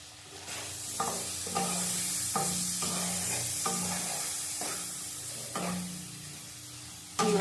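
Tomato and turmeric being stirred in a frying pan: steady close sizzling under a regular rhythm of spatula scrapes, roughly one stroke per second, with no voices.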